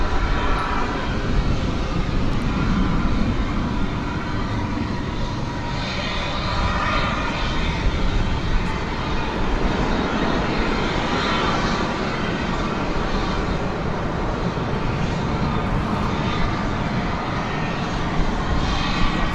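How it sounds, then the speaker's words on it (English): An Airbus A321 arriving from Cancun comes in to land at DFW Airport, its engines a loud, steady, broad roar that holds throughout with no clear change. "An Airbus A321 coming in from Cancun. We should see here momentarily as it touches down."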